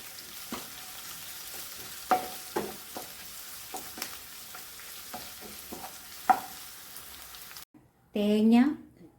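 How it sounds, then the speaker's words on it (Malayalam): Cabbage thoran with dried red chillies and curry leaves is stirred in a frying pan: a soft, steady sizzle with repeated scraping taps of the spoon, close up, and a voice speaking briefly near the end. "ഇനി ഇളക്കി കൊടുക്കണം."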